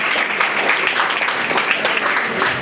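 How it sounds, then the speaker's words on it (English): A quiz audience applauds a team's score in a steady, dense burst of clapping that holds level for a few seconds, with no speech over it. "A round of applause."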